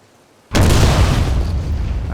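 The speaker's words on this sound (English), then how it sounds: "So I'm going to have to use the bazooka" A bazooka fires in the World War II shooter game Hidden & Dangerous: one sudden loud blast with a heavy low boom that rolls on and fades slowly without dying away.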